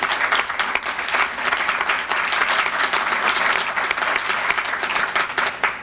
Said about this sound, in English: I just want to hear you give him a nice round of applause right now for Dr. Mays.